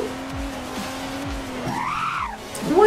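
A car drifting in the Roblox game Driving Empire, its engine droning steadily while tires let out rising and falling squeals in two or three sweeping bursts, loud and close, with no talk.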